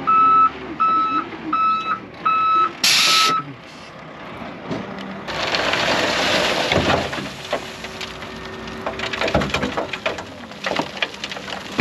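Trucks reversing on a rural road job, a series of sharp evenly spaced backup beeps at first, then a loud diesel engine rumble with clanks and rattles as they back in.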